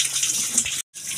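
A bathroom tap runs strongly, a steady close hiss of gushing water that breaks off briefly near the end and then resumes.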